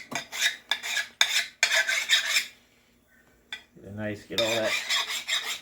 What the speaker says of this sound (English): I'm just going to take the burrs off from the wheel.